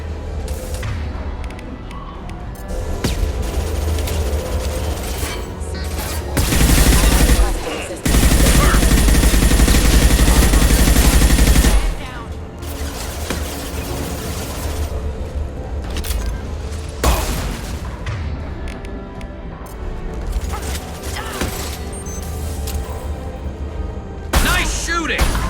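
Gunfire in Mass Effect 2 runs as steady background combat noise, with two louder, denser bursts of shooting standing out partway through, and no clear talk.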